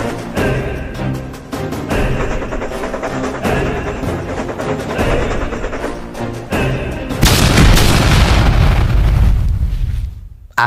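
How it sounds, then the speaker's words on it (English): A loud, dense roar of blasts and booming bursts fills the clip, surging even heavier near the end before cutting off abruptly. "After the explosion,"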